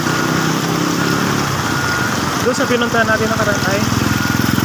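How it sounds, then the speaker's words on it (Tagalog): A motorcycle engine idles and putters nearby in a steady, throbbing rhythm, with a person talking over it. "Ay yung motor natin na service."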